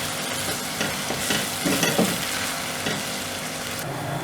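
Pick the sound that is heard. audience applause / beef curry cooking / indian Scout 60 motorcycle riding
beef curry cooking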